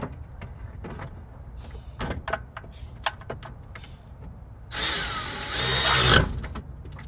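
A power tool tightens the bottom bolt of a 2012 Honda CR-V starter: a loud, rough whirring burst of about a second and a half, preceded by scattered clanks and clicks of work.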